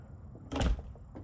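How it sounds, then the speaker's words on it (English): A household door swings shut with one short, fairly loud thud and a brief rattle, standing out against a quiet room background. "Close the door."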